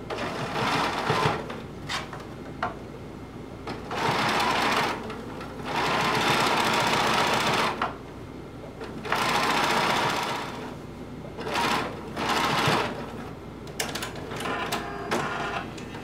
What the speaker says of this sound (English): sew a hem all the way around our sleeve